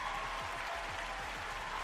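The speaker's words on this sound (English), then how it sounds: "Crowd going wild there" A crowd applauds in a dense, continuous wash of clapping that holds steady and fairly faint for a couple of seconds, with no voices standing out.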